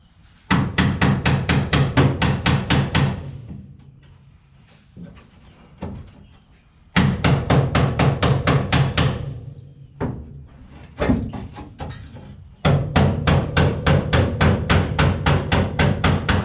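Rapid bursts of small-hammer blows ring on the floor metal of a 1955 Chevy four-door, close and loud, in three long runs separated by quieter tapping and clunks.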